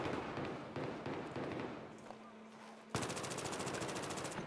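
Rapid automatic gunfire in Battlefield 3 on the Métro map, loud and close, in continuous bursts with a short lull, then a dense sustained volley of fast shots.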